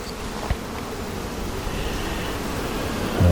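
Honey bees hum densely on a frame pulled from a cell-builder hive packed with young bees, a steady close buzzing swarm with one brief knock near the start.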